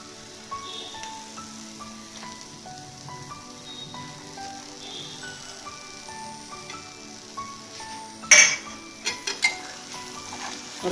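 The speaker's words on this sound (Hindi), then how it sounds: "अब हम ये जो आलू हमने फ्राई करके रखे थे इनको इसके अंदर डाल देंगे" Fried potatoes going into fried masala for Kashmiri dum aloo in a pan, with a low, gentle sizzle and a sharp clatter of the spoon against the pan as everything is stirred.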